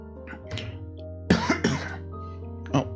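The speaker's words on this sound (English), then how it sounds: "I thought I muted before I coughed" A person coughs in a quick cluster of two or three harsh bursts close to the microphone during a live dev stream, followed by a shorter cough a moment later over a low steady hum.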